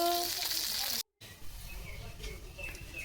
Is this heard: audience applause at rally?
no